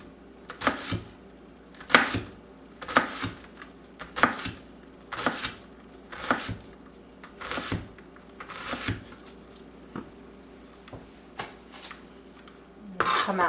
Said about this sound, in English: if you can see here, just make thin slices